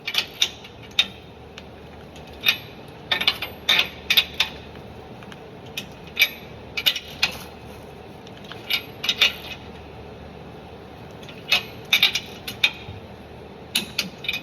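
Torque wrench clicking while wheel lug nuts are cross-torqued in a diagonal pattern on a Chevy OBS truck: sharp metallic clicks and ratchet ticks in irregular clusters, close up, with no talking.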